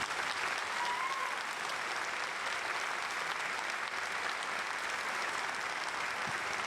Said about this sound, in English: please join us in giving these fine soldiers a round of applause